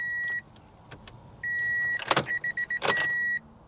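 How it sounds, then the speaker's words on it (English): Inside a heavily vandalized car with no fuel, the ignition key is cycled several times, bringing on steady electronic chime tones and clicks that start and stop in short bursts, with faint buzzing between them and no engine catching. "I'm gonna cycle the key a couple times."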